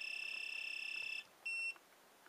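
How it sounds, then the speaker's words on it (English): A Garmin Astro 320 GPS handheld sounds its message tone: a rapid, repeating electronic beep that pulses for about a second, then one short, louder beep after a pause, clear and close, with no voices. "you can assign a specific tone to a specific task, like tone 7 for message beep"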